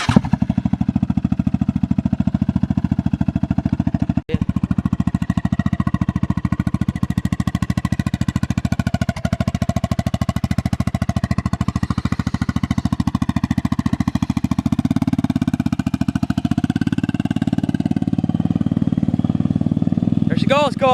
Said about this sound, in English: Let's get her warmed up a second though